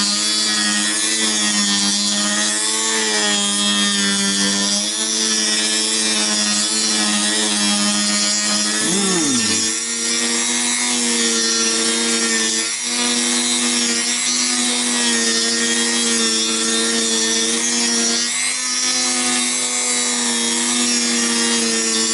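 A BC Rich Warlock guitar body being shaved down to size with a power tool, a loud continuous whine that holds steady, dips briefly in pitch about midway, then resumes and runs without talk.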